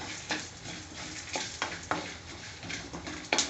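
Coriander seeds dry-roasting in a pan, with a steady dry sizzle and crackle broken by several scraping stir strokes, close and fairly quiet, no talking.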